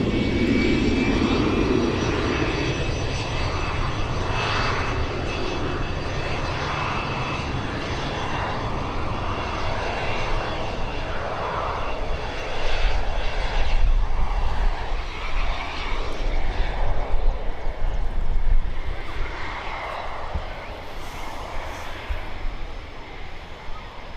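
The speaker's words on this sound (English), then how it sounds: "It's now whizzing its way around to the" A Cessna light aircraft taxis toward the runway at Birmingham Airport, a steady droning engine hum held close throughout and swelling louder in the second half, with no talk over it.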